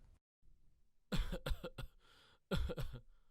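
A burst of several harsh coughs in quick succession, a pause, then another cluster of coughs, close to the listener.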